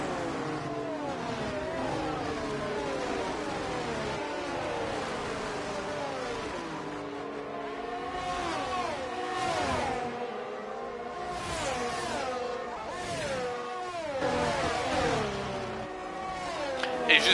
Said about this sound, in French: Nicolas qui se décale et qui double Gavin Tricard